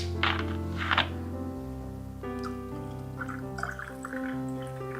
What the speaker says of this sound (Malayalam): കസ്കസ് ചേർത്ത് ഇനി നമുക്ക് സോഡ ഒഴിക്കാം